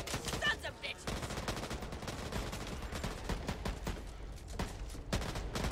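Rapid assault rifle fire from the Back 4 Blood video game, a loud sustained burst of shots running for several seconds with only brief gaps.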